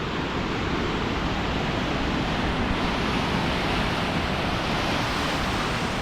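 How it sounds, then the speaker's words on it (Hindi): Strong ocean waves break along the Casablanca coast beside the Hassan II Mosque, a steady, dense roar of surf filling the whole stretch without pause and with no voices. "लहरें बहुत तेज़ है इस टाइम पे।"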